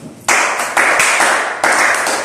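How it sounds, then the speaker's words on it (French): An audience claps in short bursts at a French-language sales and decision-making talk, loud and close, with the applause starting abruptly and swelling in waves for a couple of seconds. "Applaudissez pour nous."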